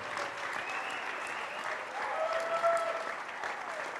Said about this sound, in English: Give them a big round of applause for what they do and how they make it